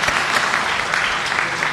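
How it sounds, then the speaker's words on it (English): Audience at a high school senior awards night breaks into dense, steady applause, a continuous wash of many hands clapping together for the whole short stretch. "you can give them a round of applause"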